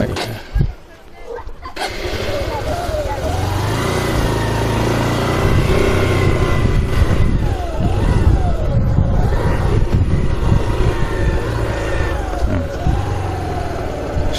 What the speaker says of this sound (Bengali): আমি মোটর সাইকেলে উঠে গেলাম মোটর সাইকেলে উঠলাম